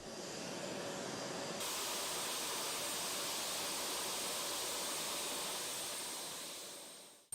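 A traditional water cannon salute welcomes a brand-new Air Burkina airplane on arrival. Loud, steady rushing spray and jet roar continue for several seconds, then fade away.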